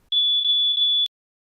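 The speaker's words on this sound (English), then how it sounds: "If you hear a smoke alarm go off," A smoke alarm sounds one sustained high-pitched electronic tone with a slight three-pulse wobble, clear and loud against silence, cutting off after about a second.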